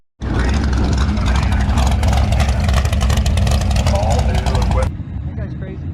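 A turbocharged VW Beetle engine runs hard and revs in a loud, continuous buzzing roar that cuts off abruptly near the end, leaving a quieter idle behind.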